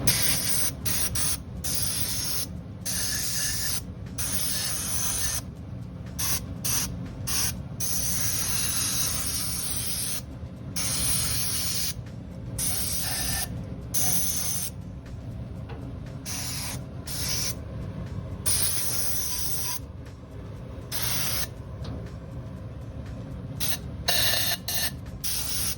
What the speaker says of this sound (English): you can use compressed air to clean the rest